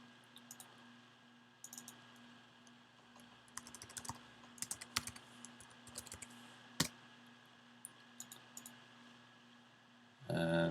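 Quiet, sparse taps on the arrow keys of a computer keyboard while editing a shape in animation software, scattered light clicks at close range with short gaps between them and a louder burst at the very end.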